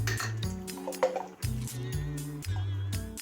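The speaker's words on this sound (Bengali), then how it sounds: "লেবু রস একটা দিয়ে দিচ্ছি এক ফালি" Lemon juice is squeezed into cooked masoor dal, giving soft wet squishes and small drips close by, set against steady background music.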